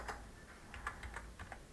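A handful of soft, quick keystrokes tap out on a computer keyboard during a computer setup session, faint and close, in irregular little bursts with no talking.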